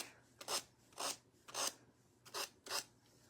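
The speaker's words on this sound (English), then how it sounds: "Let me rub my fingers across it just to make sure" Fingertips rub back and forth across a wooden quilt block, giving five soft, dry rasping strokes in a steady rhythm, close and quiet with no voices.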